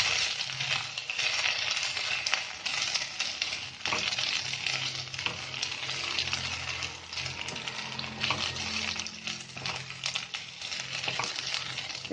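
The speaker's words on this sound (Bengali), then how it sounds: "চালটা ভালো ভালো মতন ভাজা ভাজা হয়েছে।" Jeera rice is fried dry in a pan, giving a continuous close sizzle layered with scratchy stirring scrapes and small grainy rattles from start to finish.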